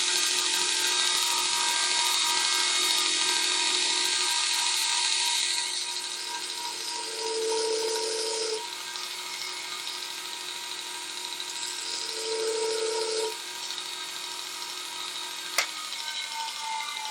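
Bench grinder sharpening a steel coin ring punch, a loud steady whine with the pitch shifting as the punch is pressed against the wheel in two longer passes, ending with a sharp tap.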